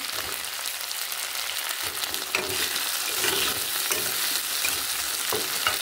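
Tomato and ginger paste added to sizzling masala for a spicy bhola fish curry in a pan, a loud, steady close frying hiss with constant stirring scrapes that swells midway, no speech.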